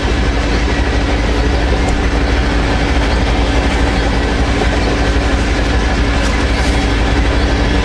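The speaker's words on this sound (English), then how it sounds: "listen to the train." A freight train, including Grains Connect cars, rolls past close by in British Columbia, a loud, dense, unbroken roar of wheels and rail noise that fills the whole stretch without letup.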